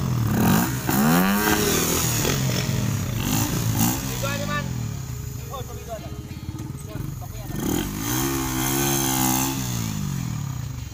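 A Rs125 streetbike motorcycle engine revs repeatedly, rising and falling in loud, buzzy pulls, close by and under steady talking throughout.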